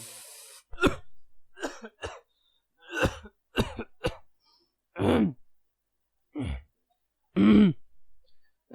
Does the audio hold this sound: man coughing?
yes